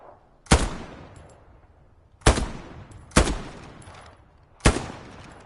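Four loud, sharp rifle shots crack at uneven intervals, each followed by a short decaying echo, while targets are shot in the Hell Let Loose video game. No talking is heard.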